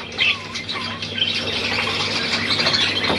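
A seagull squawking nearby in a few harsh, raspy calls, loud and close, with a faint background hum and no talking.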